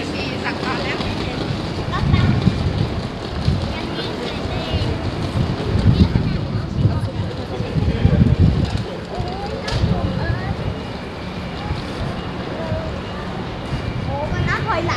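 Strong, cold wind gusts near Shin-Yokohama station in Japan and buffet the microphone in a continuous, rough roar for the whole stretch, loud and close.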